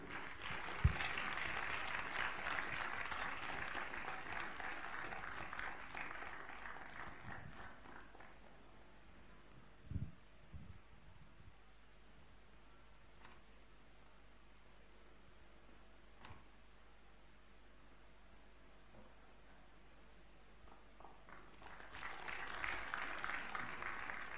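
Conference audience applauds to welcome a speaker to the podium, a burst of clapping at the start that fades into quiet room noise with scattered footsteps, then a second swell of applause near the end.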